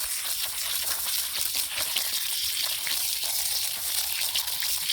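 Water sprays steadily and loudly, rinsing rust out of a swimming pool filter, a constant rushing hiss with no pauses and no voices.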